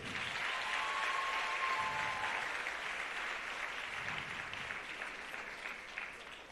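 A crowd applauds at a scholarship awards ceremony as physical therapy students stand to be acknowledged, sustained clapping at even strength that slowly tapers toward the end.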